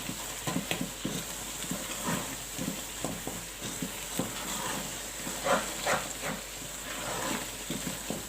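Grated carrot halwa fried in ghee over a high flame, heard as a continuous close sizzle broken by repeated scraping and stirring knocks of a spoon against the pan.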